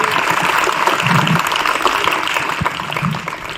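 Loud, close applause at a Republic Day program in a government school, a dense burst of many hands clapping continuously with some crowd murmur underneath, tapering slightly toward the end.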